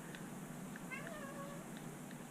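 A house cat meows a few times indoors, one drawn-out falling meow in the middle with short faint calls around it, fairly quiet over a low room hum.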